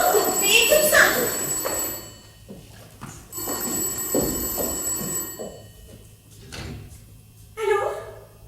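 An old-fashioned telephone bell rings in two bursts indoors in a French stage comedy, with a softer third ring near the end, while dialogue and small movements carry on between rings.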